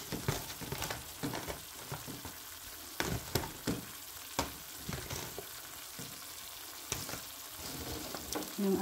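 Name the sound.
zucchini and vegetables sautéing in a pan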